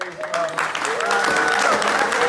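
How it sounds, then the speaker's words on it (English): A book festival audience applauds author James Barber, a broad wash of clapping that swells and holds steady while voices sound briefly over it. "So a huge round of applause, please, for James"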